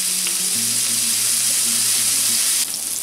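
A tuna steak sears in a hot pan, giving a steady loud sizzle that hisses continuously throughout, with a faint low hum beneath.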